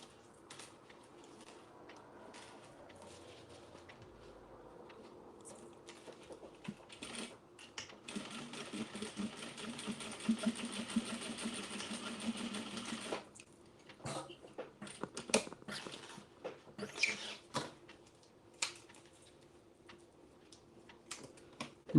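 A sewing machine stitches a denim tote strap in bursts, its fast mechanical whir rising and stopping between quieter pauses of handling and clicks, close but fairly soft.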